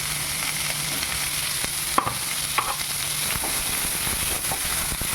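Onion and green chili sizzle and crackle steadily in a hot pan close by, with occasional stirring scrapes and small pops.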